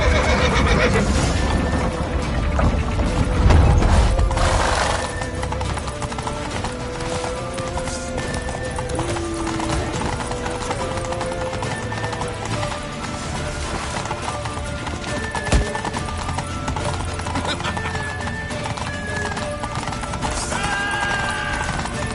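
Horse hooves gallop in a rapid, steady clip-clop in a The Witcher 3 game chase, with horses neighing, shouted voices, a sword clash and sweeping game music layered over the running.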